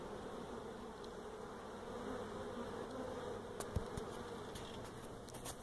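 Bees swarm around a hive built into the floor of an apartment building, their steady buzzing drone filling the air continuously with a few sharper clicks and knocks near the end.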